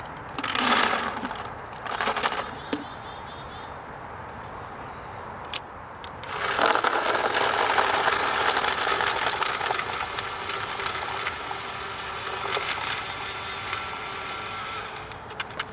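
An Empire Z2 Prophecy paintball hopper feeding balls, a mechanical whirring drive with faint rattling clicks that starts partway through and runs steadily at moderate volume, with no talking.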